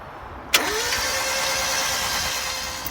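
Barn-find Mk1 Mazda MX-5 engine cranks and catches with a sharp onset after a brief quiet moment, then settles into a steady, close, loud idle with a broad hiss over it.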